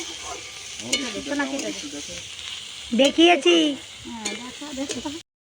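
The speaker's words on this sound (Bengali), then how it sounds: "এই যে এখানে এখন মাছ ভাজা বসিয়ে দিয়েছি" Fish fries in a pan at an outdoor cooking spot. A soft, steady sizzle and hiss runs beneath a woman's close, continuous talking.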